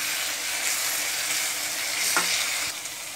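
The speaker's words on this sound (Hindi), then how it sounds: "इस स्टेज में मैं डालूंगी इसमें 2 चम्मच लहसुन अदरक का पेस्ट, इसे भी मैं भूनूंगी 3 मिनट साथ में" Garlic-ginger paste and onions fry in a pan with a steady, close sizzle, and a spoon stirs through them now and then. No one talks.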